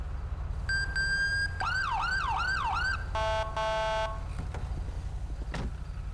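An electronic police siren on a Dodge Durango in the game FiveM cycles through modes: a steady tone, a rapid rising-falling wail, then a pulsing multi-tone horn, loud over a low engine hum.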